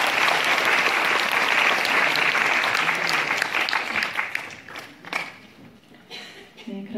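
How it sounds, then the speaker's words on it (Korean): A lecture audience at an academy talk gives a full burst of applause, dense steady clapping that thins out toward the end into a few scattered claps while someone begins speaking. "박수 부탁드립니다"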